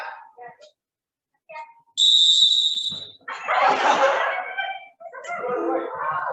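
A shrill whistle blast sounds briefly, followed by a burst of noisy shouting or crowd sound and a few scattered voices.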